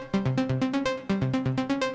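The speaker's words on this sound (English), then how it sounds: "I've got a synth here which sounds like this." A synth plays a short repeating melodic line of evenly paced notes, each swelling in softly without a sharp attack, fairly loud and alone.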